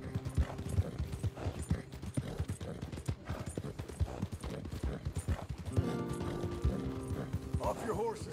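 Horse hooves clip-clop in a steady, busy rhythm in the Red Dead Redemption 2 video game, several horses moving together at close range, with background game sounds and faint mechanical clicks.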